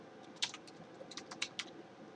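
Several light keystrokes on a computer keyboard as a folder name is typed, short irregular clicks spaced across a couple of seconds, close and fairly quiet over faint room hiss.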